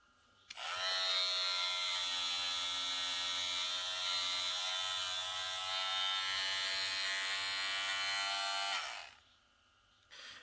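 Cronier CR 9250 cordless hair detailer trimmer switched on, a loud steady electric buzzing hum that starts abruptly, holds for about eight seconds and then stops, with no talking over it.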